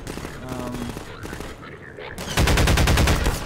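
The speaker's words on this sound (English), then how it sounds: "just running, shooting the barrels here" Gunfire in the video game Half-Life 2 as the player shoots at barrels: rapid, repeated shots come in a loud, dense burst toward the end, after quieter game sounds and a voice speaking earlier.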